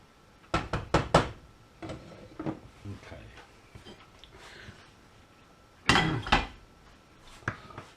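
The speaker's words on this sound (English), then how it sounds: "I'll give that a quick stir." A spoon stirs beef stew and dumplings in a cooking pot, giving several close knocks and scrapes against the metal that come in two short bursts with quieter clatter between them.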